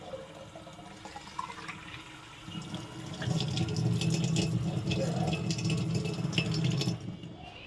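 Water runs from a tap into bottles at home, a light trickle that turns into a louder, fuller gushing and rattling partway through, then cuts off abruptly at the end.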